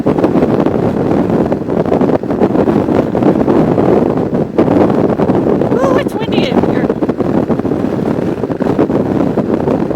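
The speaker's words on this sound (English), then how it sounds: "Ooh, it's windy." Strong wind buffets the microphone in a loud, steady roar with surging gusts, and a voice speaks briefly beneath it.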